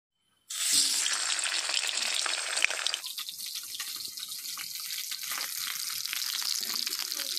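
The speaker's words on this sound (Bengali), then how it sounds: "তেলটা গরম হয়ে এলে ইলিশ মাছটা দিয়ে দেব।" Hilsa fish dropped into hot oil in a wok bursts into a loud, close sizzle that settles into steady crackling frying, with no talk.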